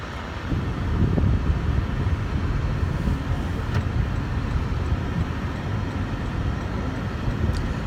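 Inside a 2017 Toyota Prius on the move, a steady low road and engine rumble with faint wind noise continues evenly throughout, with no talking.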